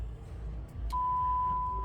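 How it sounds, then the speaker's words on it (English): A single clear electronic chime tone from a 2025 Lincoln Nautilus Reserve, one of its symphonic alert sounds, rings out and holds steadily over a low cabin rumble. "All your sounds in the Lincoln, you have symphonic chimes."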